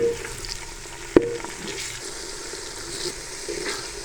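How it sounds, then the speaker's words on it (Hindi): Masala with two small tomatoes fries and is stirred in a pan for dhaba-style aloo matar gajar, giving a steady close sizzle with one sharp utensil knock on the pan early on, no talk. "मसाला हमारा अच्छी तरह भुन चुका है"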